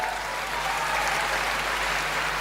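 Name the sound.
audience applause at a poetry recital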